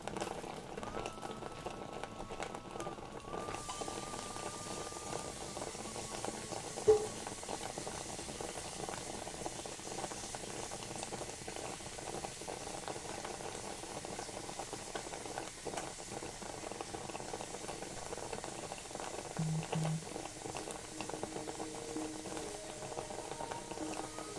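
A pot of water heats on the stove for mac and cheese, giving a steady low bubbling and simmering hiss with faint rattles and one brief knock, continuous and fairly quiet throughout.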